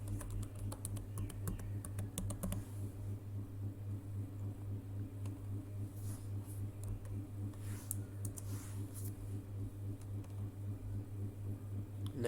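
Someone types a password on a computer keyboard, with a quick burst of clicky keystrokes at the start and then softer, sparse taps over a steady low fan hum.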